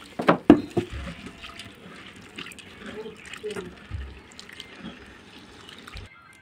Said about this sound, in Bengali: এক বাটি সাবু ধুয়ে নেব 2-3 বার করে।